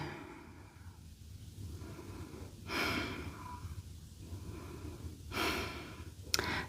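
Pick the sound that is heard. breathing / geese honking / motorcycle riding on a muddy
breathing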